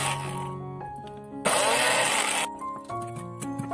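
An electric blender grinds shallots, garlic and red bird's eye chili with cooking oil, whirring loud and steady for a few seconds with a harsh high roar midway, under background music.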